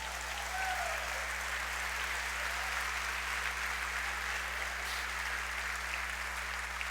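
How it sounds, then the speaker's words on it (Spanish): A church audience applauds the Lord during a sermon, a continuous wash of clapping that stays even and fairly distant over a steady low hum for several seconds. "¿Le puede dar un aplauso al Señor?"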